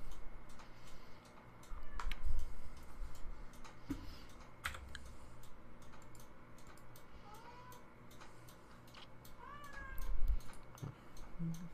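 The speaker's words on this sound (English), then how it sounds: "Will you stop meowing?" A cat meows a few times indoors, faint and set back behind steady computer keyboard typing and clicking, with no talk.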